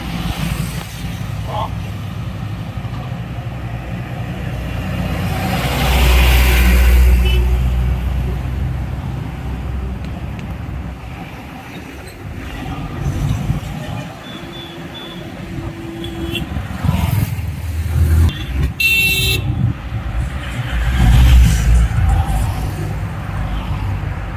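Vehicles pass a roadside shop on the Mysore to Coorg route with a steady rumble of engines that swells and fades as cars and trucks go by, a short horn blast near the end, and voices now and then.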